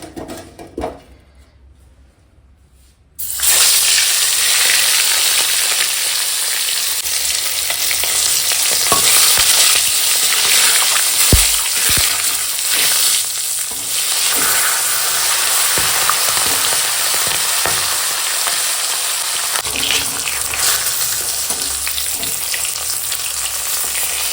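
Rui fish head, salted and rubbed with turmeric, frying in hot oil: after a quiet start a loud, steady close sizzle fills the rest, with occasional stirring knocks and no talking.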